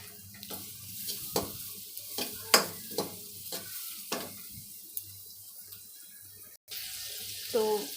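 Vegetable cutlet mixture with chilli stirred and frying in butter in a pan, a soft steady sizzle broken by repeated scraping stirs of a spoon, with brief clatter near the end.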